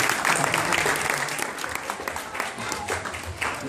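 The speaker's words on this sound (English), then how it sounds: "A round of applause for our father." Audience applause for the father at a family naming ceremony, a dense spatter of clapping that runs steadily throughout, fairly close, with some voices mixed in underneath.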